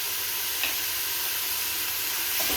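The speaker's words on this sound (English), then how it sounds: "saute together with the onion. When the mushroom is cooked, I'll add the minced garlic." Mushrooms and onion sauté with minced garlic in a pan for a chicken fettuccine Alfredo, giving a steady close sizzle and hiss with a soft stir partway through.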